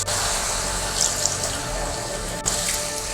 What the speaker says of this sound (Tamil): இது நல்லா கலந்துட்டு தண்ணி கொஞ்சமாக தெளிச்சா போதும்